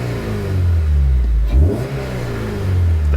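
A Honda Civic Si fitted with a Skunk2 Alpha header revs hard up close, its engine note climbing and surging loudly and steadily throughout, with no talking.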